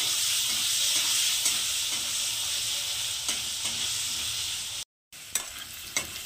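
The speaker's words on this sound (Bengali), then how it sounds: "আলুগুলোকে একটু লাল লাল করে প্রথমে ভেজে নেব।" Potato pieces tossed with turmeric and salt fry in hot oil, giving a dense, even sizzle close up, with occasional stirring clinks and a brief cut near the end.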